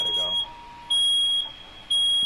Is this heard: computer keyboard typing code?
no